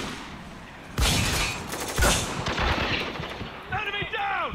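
Heavy gunfire in the Spec Ops: The Line shooter, two booming close blasts followed by a clatter of shots under shouting, with a rising whistle-like sound near the end.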